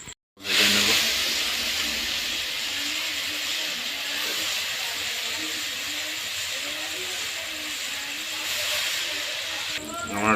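Vegetables for khichuri frying in a pot, a loud, steady hissing sizzle that starts abruptly and holds evenly for about ten seconds, with faint background voices underneath.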